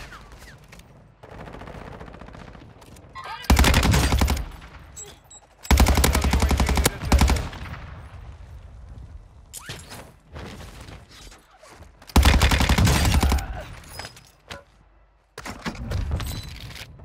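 Vaznev-9K submachine gun fire in Warzone 2, coming as several loud, sustained automatic bursts with short gaps between them and quieter game sounds in between.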